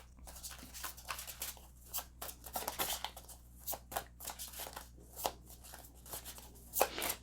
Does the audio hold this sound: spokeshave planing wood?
no